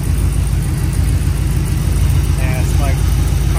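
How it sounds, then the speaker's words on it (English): A rebuilt Oldsmobile 403 V8 idles low and smooth on a test run, giving a steady, close, loud rumble with an even rhythmic pulse and a brief faint higher tone near the end. "Probably idling about 600 RPM"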